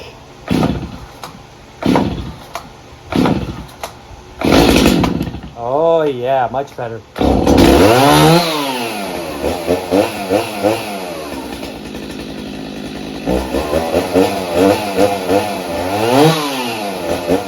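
A small two-stroke Stihl chainsaw with a modified muffler starts with a few pulls, then revs loudly and idles in bursts, its raspy engine note rising and falling; a person briefly speaks.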